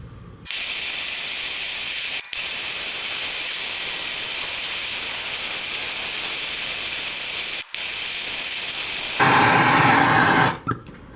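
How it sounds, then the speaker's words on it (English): A torch heats the cast crankcase of a Yamaha YDS3C motorcycle for an Aluma-Weld patch, giving a loud, steady roaring hiss that cuts out briefly twice and grows harsher near the end before stopping. "So, it means heat it up some more and put some more Aluma-Weld in it."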